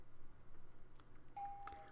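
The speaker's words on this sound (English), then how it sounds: "the doorbell stopped me" A doorbell rings in a home hallway, a single faint electronic tone held near the end after quiet background, sounding thin and somewhat distant.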